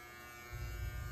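Electric hair clippers fitted with a taper guard cutting hair, a faint steady buzz that thickens into a lower hum as the blades meet the hair, brief and close.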